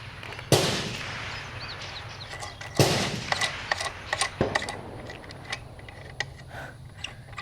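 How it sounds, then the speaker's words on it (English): A shotgun fires at an outdoor shooting range: three sharp, far-off reports spaced a couple of seconds apart, followed by faint scattered ticks and clicks in open air. "Sounds like someone's firing a shotgun out on the big range."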